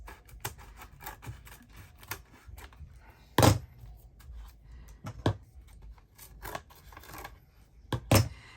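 Scissors trim cover material for a handmade Christmas journal, a series of close, crisp snips and rustles at irregular intervals, with a few sharper, louder cuts.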